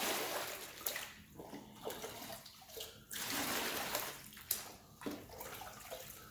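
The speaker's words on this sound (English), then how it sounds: "Fill up the tub for the last tray here." A tub fills with water for a mat-making tray, giving a continuous rushing, splashing pour with small surges and gurgles, close and alone with no talk.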